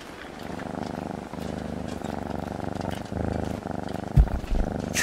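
A cat purrs steadily and close by, a continuous low rumbling drone that runs unbroken, with a brief louder bump near the end.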